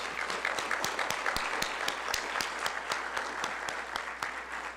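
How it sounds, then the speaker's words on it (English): A room of guests at the 2024 Meharry Medical College Circle of Friends event claps together, with crisp distinct hand claps over a soft, steady bed of applause, heard faintly and at a distance. "Can we take a moment to just clap for the legacy of Meharry Medical College?"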